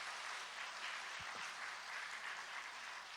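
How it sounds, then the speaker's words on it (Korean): A church congregation applauds for the country's soldiers, the steady clapping sounding distant and faint yet continuous throughout, with a couple of soft low thumps near the middle. "우리 박수 응원의 박수 한번 보내줍시다."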